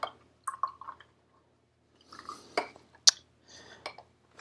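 A paint brush is rinsed in a container of water while painting strawberries, giving soft sloshing swishes, small drips and a couple of light taps against the rim, with quiet pauses between strokes.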